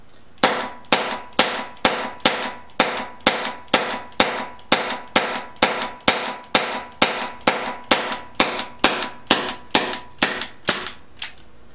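A paintball pistol fed by a 12-gram CO2 cartridge fires about two dozen sharp, snappy shots in a steady, evenly spaced rhythm, each a loud close crack with a brief ring.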